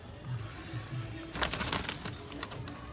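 Pigeons coo in short low bursts in the first second, then a flurry of wing flaps and scuffling rises and continues to the end at moderate loudness.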